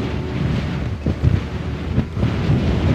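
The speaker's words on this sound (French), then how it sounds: "il y a trop de vent, je peux pas faire voler mon drone" Strong desert wind in South Africa gusting against the microphone, a heavy low rumble that swells and dips in a few gusts.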